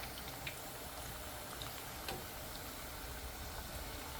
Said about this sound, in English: And wait like about 5 minutes. Let it fry.